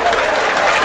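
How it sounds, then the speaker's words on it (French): Haitian fans in a stadium applaud their goalkeeper during a Haiti versus Puerto Rico soccer match, a brief, loud burst of dense clapping mixed with crowd noise. "Johnny Placide applaudi par le public haïtien."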